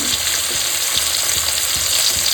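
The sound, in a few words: gurjali fish frying in hot oil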